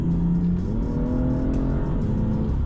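A BMW M2 engine accelerating from inside the car, a loud, steady rising drone with a clear pitch that climbs through the gears, dips briefly at a shift, then climbs again.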